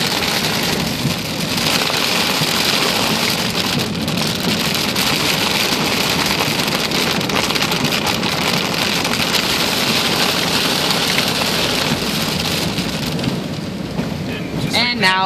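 Heavy rain pounds a car in a loud, unbroken wash of noise, with a brief voice near the end.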